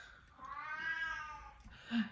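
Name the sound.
cat meowing in the background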